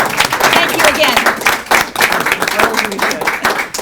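An audience at a World Affairs Council panel discussion on Ukraine breaks into sustained applause, a dense wash of clapping from a crowd that stays strong for several seconds.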